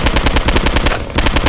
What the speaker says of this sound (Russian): Не знаю, обычный автомат, по-моему, работает гораздо лучше.